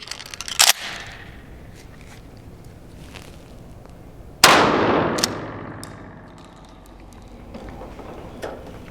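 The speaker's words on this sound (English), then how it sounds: "We're going to go and shoot out at the 870 first." Remington 870 pump shotgun firing Tac 8 buckshot at a shooting range: a sharp blast early on, then a second loud boom that trails off in a long rolling echo, with no talk.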